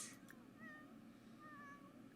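A cat lets out a couple of faint, thin meows over quiet background hiss, distant and soft.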